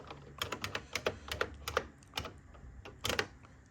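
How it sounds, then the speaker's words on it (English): Close, crisp computer keyboard typing comes in short irregular runs of keystrokes over a faint background hum, with no speech. "type in RetroPie"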